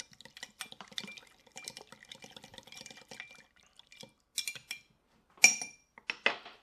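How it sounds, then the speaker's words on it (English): A bar spoon stirs lime juice and agave syrup in a glass, giving light, irregular clinks and taps of metal on glass with a few brighter knocks near the end. "Give this a good stir."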